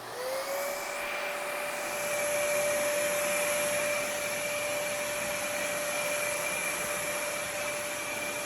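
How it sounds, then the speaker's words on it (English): A shop vacuum runs steadily at close range with a loud, sustained whine that holds a constant pitch after spinning up in the first second, with a dust collector hooked to it. "whenever I first turned the vacuum on, it didn't turn the dust collector on, so I went and turned that on"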